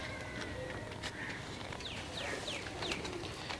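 Pigeons cooing softly at a distance against a steady background hiss, with a few faint calls spread over a few seconds.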